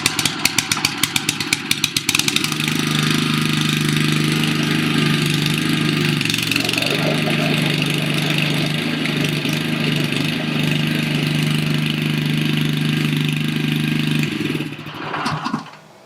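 Honda-powered Westermann WKB660 weed ripper, its petrol engine starting with a few sputtering pulses and then running steadily at a loud, even idle for about fourteen seconds before dying away.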